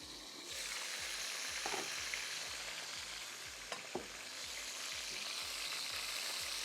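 Chicken wings fry in a pan with a dense, constant sizzle and hiss, punctuated by a couple of sharp pops and spatters, no voices.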